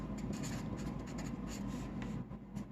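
Steady, faint scratching of an equation being written on a board runs throughout in a continuous stroking rhythm, with no talk over it.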